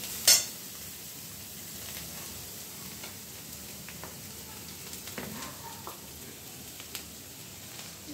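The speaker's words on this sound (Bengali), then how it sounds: "বাঁধাকপিটা আমরা তেলের মধ্যে কিছুক্ষণ নাড়াচাড়া করে নিয়েছি।" Shredded cabbage stirred and fried in oil in a pan for a Bengali badha kopir dhoka: a faint, continuous sizzle with light scraping stirs and a sharp clink near the start.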